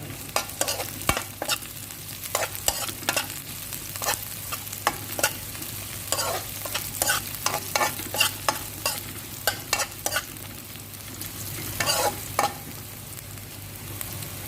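Garlic frying in a pan, a steady sizzle broken by many sharp scrapes and clanks of a utensil stirring, loud and close, with no voices.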